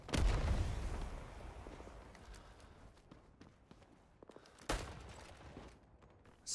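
Grenade blasts and gunfire in Rising Storm 2 Vietnam: a heavy explosion at the start and another midway, each decaying into rumble, with scattered sharp shots and clatter between them and no talking.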